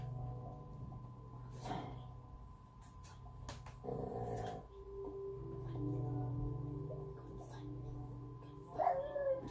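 A dog close by growls and whines in drawn-out, throaty bursts, with a sharper yelp near the end, over low steady background noise.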